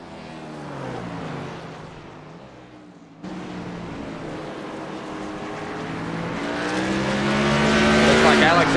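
Race cars roaring around an oval track during a televised race, engine noise swelling and fading as cars pass, with a sharp cut partway through and the roar building louder toward the end, commentary faintly underneath.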